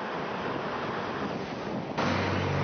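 Continuous broadband wash of surf rolling onto a shore, steady and fairly loud, swelling slightly stronger near the end.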